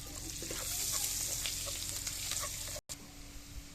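Garlic sizzling in melted butter in a pan for spaghetti, a steady close hiss with a brief break near the end.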